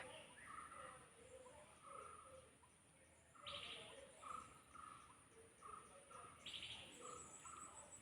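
Faint evening birdsong, with short chirps and tweets recurring every second or so, rides over a steady high whine of crickets in a quiet outdoor setting.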